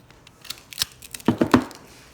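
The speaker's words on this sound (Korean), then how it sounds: "이 뒷부분이 이렇게 석고가 붙어 있는 경우에는 이 니퍼를 이용해서 여기를 살짝 이렇게 잘라줍니다" Nippers snip and crunch away stuck plaster from the back of a dental model, several close crisp cuts that build into three louder cracking snaps near the end, with no talking.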